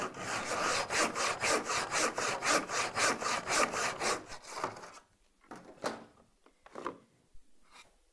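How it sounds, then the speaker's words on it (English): A wooden hand saw cuts through framing wood held in a miter box, giving about a dozen quick, even back-and-forth rasping strokes up close, then stopping, followed by a few scattered scrapes and knocks. "then you would pop your wooden saw into it and then simply just cut away"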